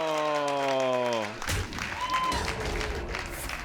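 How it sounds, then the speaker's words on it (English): Audience applause bursting out at a Hearthstone tournament grand final, a dense wash of clapping and some cheering that erupts suddenly after a sustained tone and keeps going to the end. "Really clapping for that Huffer."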